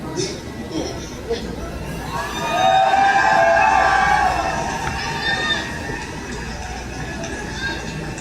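A large crowd cheers and shouts, swelling loudly in the middle and then settling into steady, excited noise with high voices mixed in.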